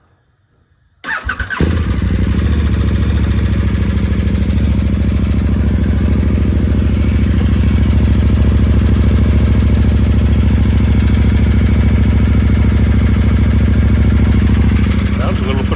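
A KTM 1290 motorcycle fitted with an upgraded exhaust starts after about a second of quiet, then idles loud, steady and close for the rest, warming up before an oil change; a voice speaks briefly over it.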